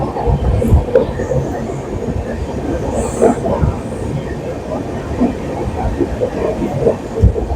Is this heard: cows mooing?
no